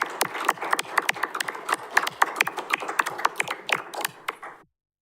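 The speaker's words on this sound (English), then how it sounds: "Let's give him a round of applause, everybody." Applause from the audience at a city council meeting, a spread of claps at an irregular rhythm over several seconds that breaks off abruptly at the end, with no talk over it.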